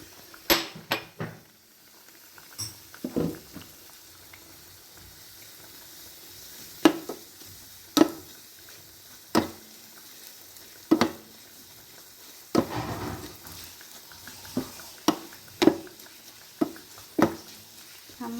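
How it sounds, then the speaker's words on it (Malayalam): Coriander powder, chili powder and garam masala fry in coconut oil with garlic and shallots, a soft sizzle under repeated sharp scrapes and taps of a spoon stirring against the pan. "ഒരു കാ ടീസ്പൂൺ മല്ലിപ്പൊടി ഒരു കാ ടീസ്പൂൺ മുളക് പൊടി കാ ടീസ്പൂൺ ഗരം മസാല അതിട്ടൊന്ന് മൂപ്പിക്കുക"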